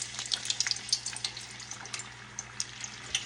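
Apple pies frying fast in hot peanut oil, a steady bubbling crackle with scattered sharp pops and spits, moderately close and continuous throughout.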